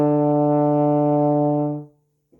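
A brass instrument holds a warm-up note, a single steady, rich tone that sounds close and clear for nearly two seconds before cutting off into silence.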